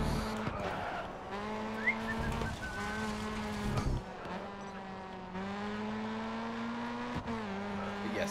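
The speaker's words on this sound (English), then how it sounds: "the engine sounds like quite loud" Race car engines in the racing game Grid Autosport drone steadily at high revs, pitch shifting with gear changes and brief tire skids, loud and continuous with faint talk underneath.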